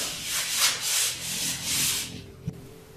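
Drywall being cut with a hand tool to make an opening for a 20 by 30 plumbing access hatch in a bathroom box: several rhythmic rasping strokes, close and steady, then a light knock as the cutting stops.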